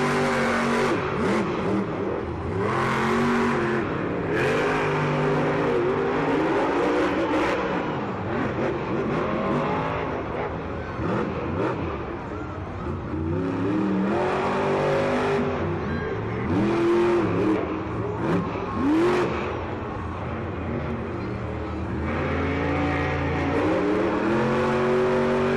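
Monster trucks Grave Digger and Sparkle Smash roar through a race at a Monster Jam Fast Track event in Atlanta, loud engines revving and surging continuously with repeated rising and falling pitch sweeps.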